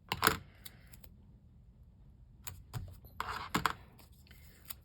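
Scissors snip through card for an Easter card in a few short, crisp cuts separated by quiet pauses, close up and fairly soft.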